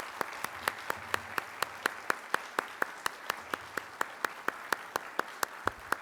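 Slow, evenly spaced hand claps for an honoree at a medal and diploma ceremony at São Paulo's city council, sharp individual claps at a steady rhythm from what sounds like a single clapper, fairly faint against a quiet hall.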